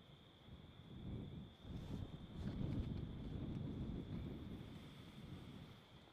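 Wind roars at the Kilauea volcano lookout during an eruption, a continuous low buffeting rush that swells and eases, fairly faint, with a steady high whine beneath it.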